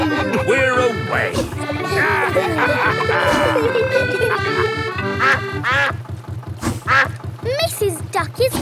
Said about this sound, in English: Mrs. Duck is going faster than our boat.